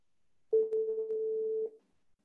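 A mobile phone gives a single steady electronic tone lasting just over a second, clear and close in an otherwise quiet room.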